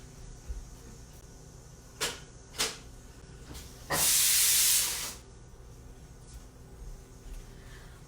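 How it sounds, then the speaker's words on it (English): A kitchen pressure cooker boiling potatoes lets out a loud, close burst of steam hiss lasting about a second, preceded by a few sharp puffs and followed by quieter background. "my pressure cooker, it just ran. I was just boiling some potatoes."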